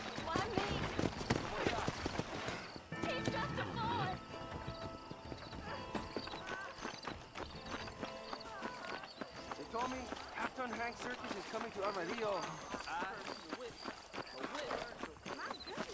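Horse hooves clip-clop in a steady rhythm in the video game Red Dead Redemption, mixed with game sounds and heard under someone talking throughout.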